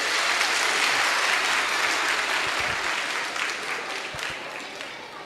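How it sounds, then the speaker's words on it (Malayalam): An audience at a talk breaks into sustained applause, a dense, steady clatter of many hands heard from within the hall that slowly eases off, with no voices over it. "ഒരു കയ്യടി തരാമോ എല്ലാവരും"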